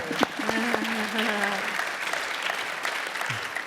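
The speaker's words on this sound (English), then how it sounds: "Y'all can clap it up." A live audience breaks into steady applause at a talk on tragedy and crime, sustained clapping from a full room, with a voice briefly speaking over it near the start.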